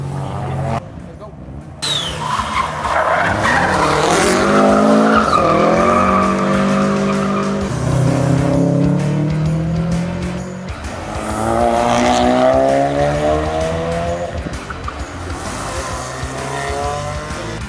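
A Toyota IS200 with a 2JZ engine races through a rally sprint, its engine revving loud and close while the tires squeal and skid in long, sweeping slides, with the pitch rising and falling through the turns.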